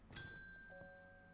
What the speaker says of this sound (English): Ding ding goes bell.